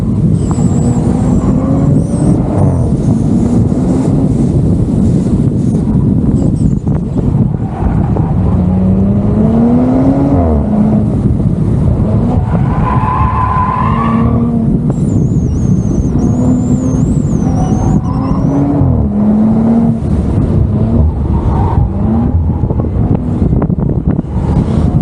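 An Audi RS4 Avant B9 is driven on the road, a steady engine drone rising and falling in pitch as it accelerates and shifts, under loud wind and road rush heard from inside.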